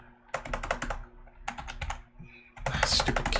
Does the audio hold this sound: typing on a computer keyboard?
yes